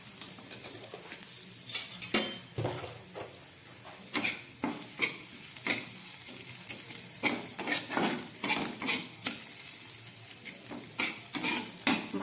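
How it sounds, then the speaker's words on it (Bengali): A spatula scrapes and taps against a pan while spiced pea paste fries with a soft sizzle, in irregular close strokes repeating throughout, with no voices. "আমি একটু ভালো করে ভেজে নিচ্ছি।"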